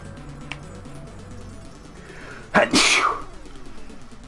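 A single sharp sneeze bursts out close to the microphone during a casual home livestream, loud and brief against a quiet room background.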